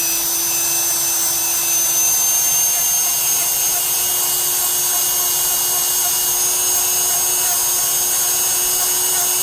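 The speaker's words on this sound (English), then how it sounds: "Let's Dremel these down here." A Dremel rotary tool grinds down thick toenails with a continuous, steady high-pitched whine and hum, loud and close, running unbroken throughout with no talk.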